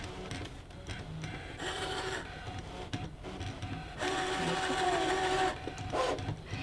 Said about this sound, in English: And this rotary blade is so careful with my fabric